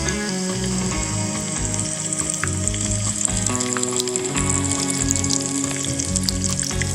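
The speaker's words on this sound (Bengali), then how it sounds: "কাবাবগুলি এখানে ভেজে নেব" Beef shami kababs fry in shallow oil with a loud, continuous crackling sizzle and scattered pops, heard up close over a low tonal hum in the background.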